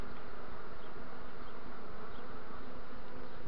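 A multi-queen swarm of honey bees gathered on a board produces a dense, continuous buzzing drone, close and steady throughout with no pauses and no voices.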